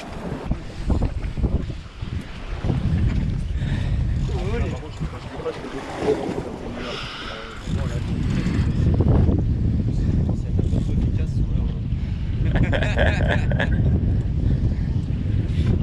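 Steady wind roaring and buffeting a microphone outdoors on a tuna-fishing boat at sea, with waves and some brief voices mixed in throughout.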